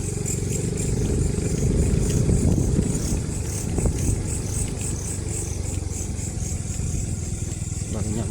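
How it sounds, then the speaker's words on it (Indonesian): Motorcycle engine running steadily throughout as the bike heads into a forest, a continuous mid-pitched drone with little change in loudness. "Tapi ini enak masuk motor langsung ke hutan ya."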